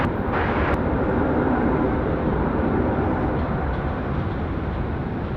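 A Boeing 747 at Sydney Airport gives off a loud, continuous roar of jet engines, broad and steady and close, with no voices over it.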